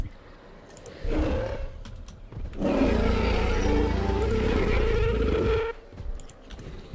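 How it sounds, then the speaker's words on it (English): A deep, rumbling dinosaur roar in the video game Jurassic World Evolution 2 swells and holds for several seconds, loud and growling, preceded by a shorter rumble and followed by quieter clatter. "Wait, listen to the roar."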